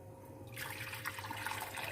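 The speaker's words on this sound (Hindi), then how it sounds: "बोल में नीम गर्म पानी ऐड कर देते हैं।" Lukewarm water is poured into a bowl, starting as a faint drip and swelling into a steady splashing pour about halfway through, quiet and close, with no voices.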